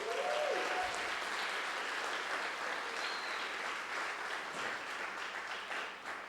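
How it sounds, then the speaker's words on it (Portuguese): A church congregation claps for visiting members from Sorocaba, a steady wash of many hands that starts loud and fades slightly toward the end, with a brief faint tone near the start. "Dá uma salva de palmas aí para eles"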